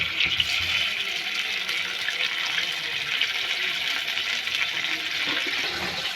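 Tomatoes and green chillies tossed into hot oil in a wok, a loud, steady hiss of frying that continues evenly throughout.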